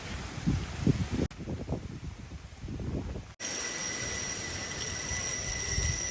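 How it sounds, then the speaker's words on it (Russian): Wind chimes ring at the Peace Stupa in Hungary, with faint rustling at first and then sustained high metallic tones that hold steady and clear for the last few seconds. "Музыка ветра."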